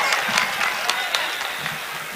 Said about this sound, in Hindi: आप जोरदार तालियों से उनका इस्तकबाल करें।